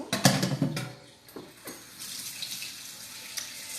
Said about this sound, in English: I am going to rinse off these two cans, that way we can recycle them.